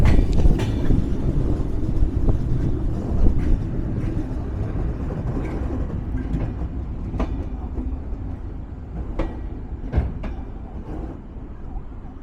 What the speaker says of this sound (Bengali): আমার প্রাণের জেলা শহর টাঙ্গাইলের টাঙ্গাইল রেলওয়ে স্টেশনে আমাদের ট্রেন প্রবেশ করছে